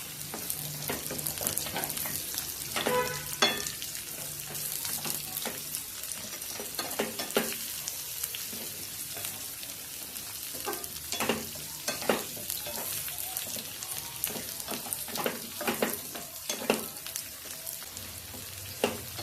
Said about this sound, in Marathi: दोडके आधी फ्राय करून घेऊ. तेलामध्ये दोडके फ्राय करून घ्यायचे छानपैकी.